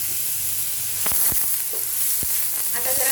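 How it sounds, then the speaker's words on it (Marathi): Onion and green chili fry in a pan for a Maharashtrian drumstick-leaf bhaji, giving a steady hiss of sizzling oil with a few sharp clicks of stirring near the start and middle. "आता जरा कांदा आपला मऊसर पडेपर्यंत आपण परतून घेऊया."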